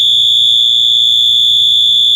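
A 12V alarm wired through a timed relay sounds a loud, steady, piercing electronic tone that holds unbroken at one pitch from start to finish, with a faint low hum beneath it.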